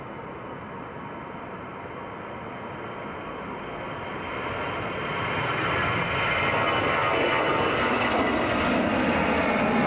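An EasyJet airliner flying in to land at Teesside International Airport gives a continuous jet roar that swells steadily louder as it approaches.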